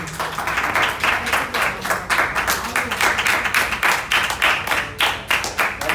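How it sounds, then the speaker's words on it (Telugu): Audience at a business training meet clapping together, a steady, close, fairly loud round of applause with brisk overlapping hand claps throughout. "ఒకసారి చప్పట్లు ప్లీజ్."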